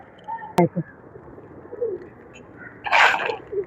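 Soft pigeon coos rise and fall at a moderate distance over a murmuring outdoor background at a seaside park, with a sharp click early on.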